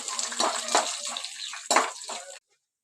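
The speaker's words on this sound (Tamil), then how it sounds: "எண்ணெய் நல்லா காஞ்சிச்சு, கடுகு போட்டுக்கலாம்" Mustard seeds thrown into hot sesame oil crackle and sizzle in loud bursts up close, fading quickly and then stopping abruptly.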